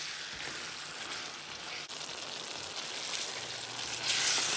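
Bananas foster syrup simmering and cooking down in a pan gives a steady, close bubbling sizzle with a brief dip midway, swelling slightly louder toward the end, with no talking.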